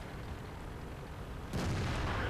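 FV304 self-propelled artillery gun firing in the World of Tanks video game, a single sudden loud boom about two-thirds of the way in, following steady game background noise.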